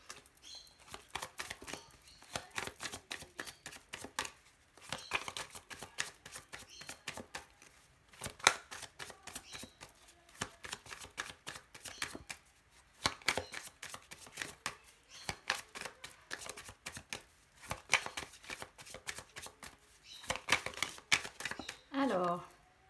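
Tarot cards shuffled by hand in repeated bursts of riffling and slapping, close and fairly soft, with short pauses between rounds.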